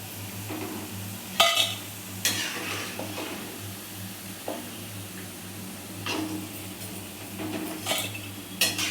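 Cabbage pakoda frying in hot oil on a home stove, a steady low sizzle running throughout, broken by sharp metal clinks and scrapes of a ladle against the pan and utensils. No one speaks.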